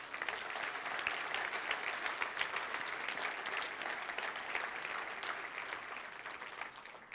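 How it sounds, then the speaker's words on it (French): Audience applause after young people from the Portail are credited with their work, a steady wash of many hands clapping that holds at an even level for the whole stretch with no voices over it. "je pense que ça mérite une main d'applaudissement."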